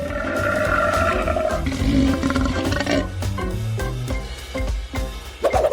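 A deep, powerful big-cat roar rumbles on and on, loud and near, breaking into growls and snarls toward the end.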